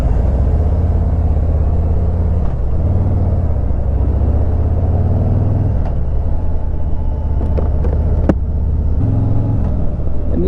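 A Harley-Davidson demo motorcycle idles at a demo day, giving a steady, low, even rumble that holds close and loud throughout with no revving.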